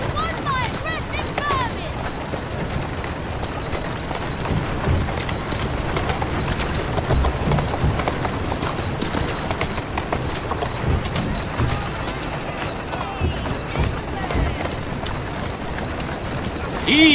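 Horse hooves clip-clopping in Assassin's Creed Syndicate, a steady rhythm of muffled footfalls running throughout under game sounds and a voice speaking, with a brief louder thump at the end.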